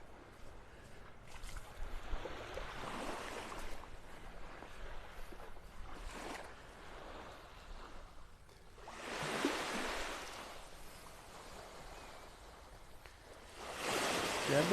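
Surf washes onto a beach in North Naples, Florida, in soft, distant swells that build and fade in a slow rhythm, with a few louder breaking waves rising out of the quiet background.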